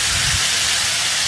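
Ground spice paste hits hot oil in a wok, producing a loud, dense, close hiss that stays steady for the whole short burst, with no talking.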